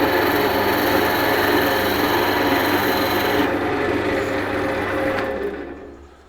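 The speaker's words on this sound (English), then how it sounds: "let's just see what this cut's like to start with as a peeling cut" A skew chisel resting on the tool rest takes a peeling cut on spinning wood on a lathe, a loud, steady, close rasping scrape that holds for several seconds and then fades as the cut ends.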